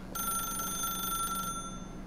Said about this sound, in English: I'm just gonna sit in this corner, not answer this phone. Let it keep ringing.